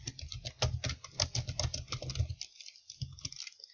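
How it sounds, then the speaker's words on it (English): A computer keyboard clatters close up as comments are typed, with a quick run of keystrokes followed by a short pause and a few more taps. "And then you can type in your comments."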